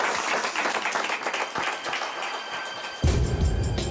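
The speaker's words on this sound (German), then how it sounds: "das ist Ihr Applaus" A theatre audience at a stage magic show claps in a steady, dense patter that jumps louder near the end.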